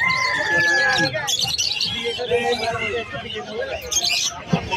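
Caged pet birds, lutino and green opaline finches or parakeets among them, chirp and tweet busily at an outdoor Sunday bird market, mixed with crowd chatter and a vendor talking.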